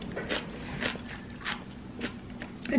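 Someone eats kimchi up close, with several crisp, crunchy bites and chewing sounds at a steady pace and no talking over them.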